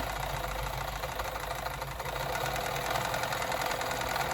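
A sewing machine runs steadily, stitching the main fabric of a handmade girls' slipper, with a continuous close mechanical whir and a fast, even rhythmic hum throughout and no talking.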